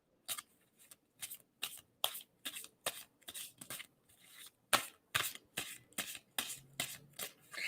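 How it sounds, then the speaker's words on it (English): Tarot cards are shuffled by hand in a quick series of crisp riffling bursts, about a dozen of them, close and fairly quiet, with short gaps between. "And so I'm going to stop shuffling."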